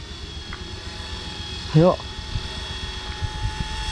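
An Eachine E120 RC helicopter flying outdoors, its steady motor whine holding throughout at moderate distance while a person briefly calls out.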